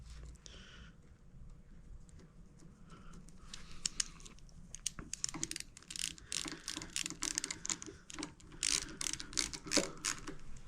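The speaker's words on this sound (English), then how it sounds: "now I'm gonna put the nut back on the bottom." Small clicking and ratcheting of a bottom nut being threaded back on during a bicycle rebuild, quiet and close, with irregular bursts of fine mechanical ticks that grow busier toward the end.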